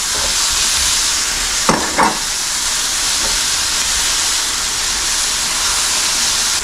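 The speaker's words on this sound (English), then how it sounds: "Chuck the okra in. And the Brussels sprouts at the same time." Okra and Brussels sprouts dropped together into a hot pan, giving a loud, steady, close sizzle with a couple of brief scraping clatters near the start.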